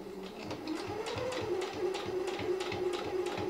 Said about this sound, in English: And I'm just sewing